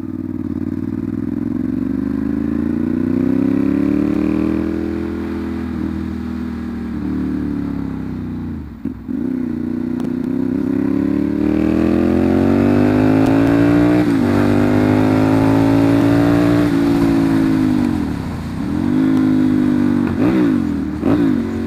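A Ducati Monster 796 motorcycle fitted with an SC Project CR-T exhaust, ridden with a loud, steady engine drone that rises and falls through repeated revving and gear changes, with one brief dip partway through.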